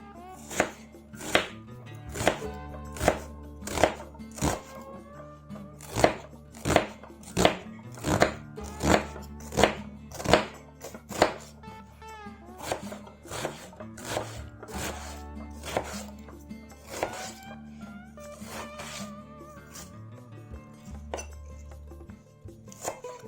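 An Opinel No.9 carbon steel knife chops an onion on a board in quick, evenly spaced cuts, roughly twenty crisp strikes that soften and thin out toward the end, with no talking.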